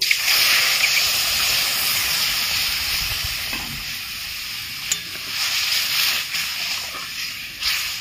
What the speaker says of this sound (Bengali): সুজিটা লাল করে ভাজা হয়ে গেছে, আমি এবার দুধটা ঢেলে দিচ্ছি।